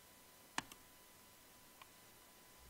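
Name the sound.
computer mouse click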